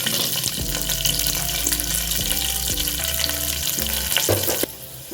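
Curry leaves and green chillies dropped into hot oil with mustard seeds crackle and sizzle loudly and close, a steady frying hiss with light stirring scrapes for about five seconds, easing slightly near the end, no speech.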